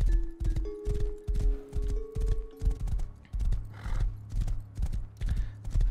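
A horse's hooves gallop in a survival video game, a fast rhythmic clip-clop of repeated beats throughout, close and loud, with a brief whinny-like tone early and a low rumble building in the second half.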